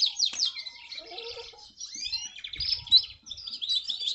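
A young pintagol songbird sings a quick, varied string of chirps and twittering trills, close and fairly soft, with brief pauses between phrases.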